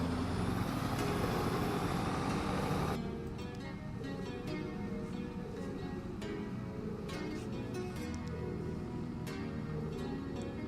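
A Scania truck in Farming Simulator 25 runs with a steady engine drone, louder for the first few seconds before settling into a lower, continuous rumble with faint intermittent mechanical clicks.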